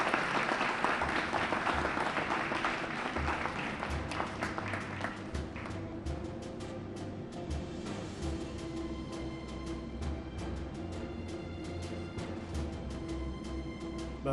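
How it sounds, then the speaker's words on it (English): Sustained audience applause fills a 3rd District community relations awards ceremony, a dense, steady wash of many clapping hands that stays strong throughout without easing off. "we applaud you now"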